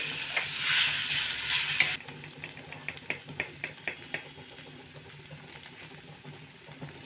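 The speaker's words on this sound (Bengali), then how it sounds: "পনিরটাকে একটু নেড়ে নেব পেঁয়াজ আরের সাথে ভালো করে একটু মিশিয়ে নেব" Paneer stirred with onion in a pan over a very low gas flame, a brief burst of sizzling hiss giving way to a rhythmic series of close, crisp spatula scrapes that gradually soften.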